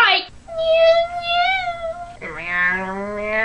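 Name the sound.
child imitating a cat meow, Meowth Pokémon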